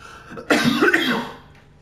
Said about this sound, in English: That was a loud cough.